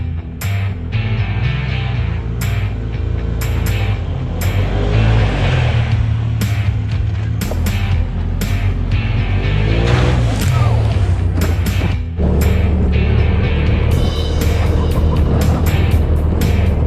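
Turbocharged Polaris RZR side-by-side driving through puddles, its engine roaring loud and close with rising and falling revs, clicks and bumps from the ride, and voices now and then over the motor.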